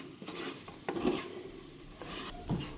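Masala with black pepper being stirred in a pan, a spoon scraping against the metal in a few soft, irregular strokes at close range with a faint sizzle underneath.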